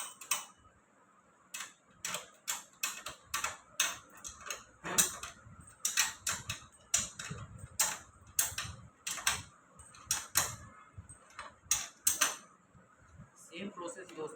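A spanner tightens the axle nut and washer on a new 20-inch Hero Fairy children's bicycle, giving a steady run of sharp ratcheting clicks in quick bursts, close by and fairly loud, with brief pauses between strokes.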